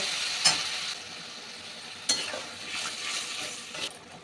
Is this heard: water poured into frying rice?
yes